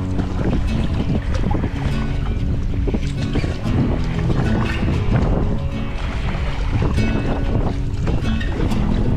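A sea kayak paddles across open water on a sunny, mildly breezy day near an island off Maine, with steady water wash and wind rumble on the microphone throughout and no voices.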